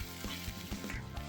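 Dense, continuous sizzling and crackling of onions and ginger frying in hot sesame oil, heard up close with small pops and no voices.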